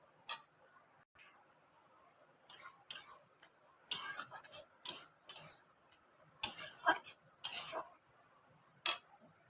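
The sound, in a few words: grated coconut being stirred and fried in a pan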